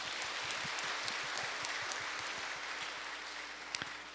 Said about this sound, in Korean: 동산의 가족이 되신 분들에게 마음을 담아 우리 박수로 환영하겠습니다